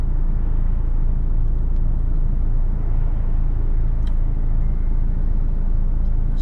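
Road traffic heard from inside a truck cab while queued on the road: a constant close engine rumble with a low idling drone, a few faint clicks and taps, and no voices.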